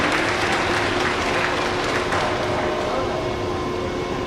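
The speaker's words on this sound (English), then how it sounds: "let's give him a round of applause" A graduation ceremony audience applauds in a steady, dense wash of clapping that holds at an even, fairly loud level throughout, with no voices standing out.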